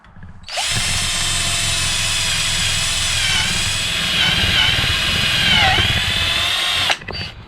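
A cordless 20V electric drill whirs continuously at high speed for several seconds, a loud steady whine with slight pitch dips, starting and stopping abruptly.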